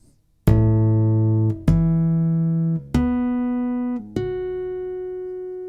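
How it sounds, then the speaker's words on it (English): Chapman Stick chords and harmonics heard through its pickups, five struck chords ringing out one after another with long, slowly decaying sustain, a clean close tone and no voices over them. "And now the chords. And the harmonics."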